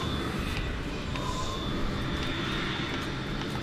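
A transformed robot flying as an airplane in the video game Transformers Rise of the Dark Spark gives off a steady, moderately quiet roar of aircraft engine noise throughout, with no speech over it.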